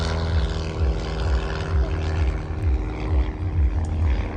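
A propeller aeroplane built in 1977, in a patriotic colour scheme, side-slips down the display line at an air show. Its engine gives a steady, loud, droning roar with a gently pulsing throb throughout, and no voices are heard.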